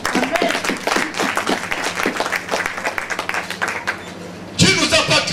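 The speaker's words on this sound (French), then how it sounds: "Applaudissons Jésus-Christ, alléluia." A church congregation claps through a sermon with mixed voices and cheers over the applause, which dips briefly before a louder burst of clapping and voices at the end.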